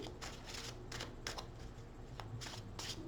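Tarot cards riffle and shuffle in several quick bursts over a constant background hiss, close and soft.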